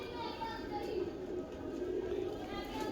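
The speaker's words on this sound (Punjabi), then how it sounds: "ਇਹ ਆਪਣੇ ਕੋਲ ਹੈਗਾ ਇੱਕ ਕਬੂਤਰ।" Soft, low cooing from a pigeon over steady background hum and faint chatter, repeating gently throughout.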